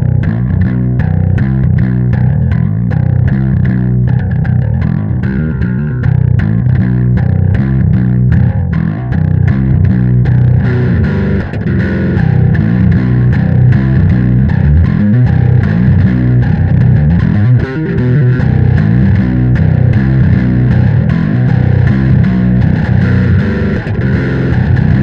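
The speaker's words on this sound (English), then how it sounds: "Drive sets the amount of saturation in the overdriven signal." A bass guitar played through a Darkglass Vintage Microtubes overdrive pedal growls with thick saturated distortion, a continuous loud riff of plucked notes running the whole stretch without speech.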